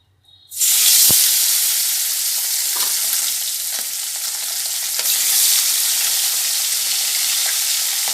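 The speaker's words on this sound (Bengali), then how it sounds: "এই তেল গরম হয়ে গেছে এবার মাছগুলো আমি ভেজে নেবো" Fish rubbed with salt and turmeric dropped into hot oil, the quiet pan bursting into a loud, hissing sizzle that holds steady with light stirring and spatter, no voices.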